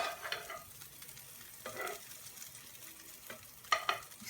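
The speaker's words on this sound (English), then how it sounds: "then we're going to pan sear that delicious salmon and shrimp" Salmon and shrimp sear in a pan with garlic, giving a soft, close sizzle broken by a few stirring scrapes and a sharp utensil clatter near the end.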